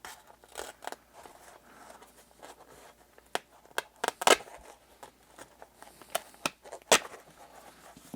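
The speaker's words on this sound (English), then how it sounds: "let's go ahead and cut that open from the rear" Scissors snipping and plastic crinkling as a 1997 U.S. Coast Guard life boat survival kit ration package is cut open, with sharp irregular cuts and rustles at close range.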